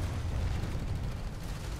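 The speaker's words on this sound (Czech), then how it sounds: "To je střelba. Takhle střílí teranský voják." A Terran soldier fires in a video game: a sustained, rumbling burst of gunfire with heavy low-end booms, dense and loud with no gaps.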